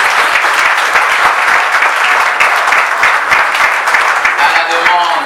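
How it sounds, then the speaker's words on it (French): Guests at a civil wedding ceremony in Gabon applaud loudly, a thick, sustained burst of crowd clapping with sharp individual claps throughout and voices mixed in beneath it. "je souhaite que l'on applaudisse très fort pour cette merveilleuse."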